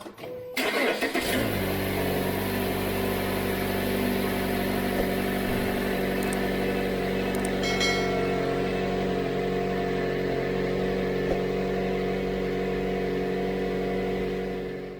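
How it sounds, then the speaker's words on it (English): A Mazda 2.5L Skyactiv engine, with new spark plugs and coils, cranks and fires up, then settles into a steady, close idle humming on for the rest of the clip. "Let's go ahead and just start up the car and see how it sounds"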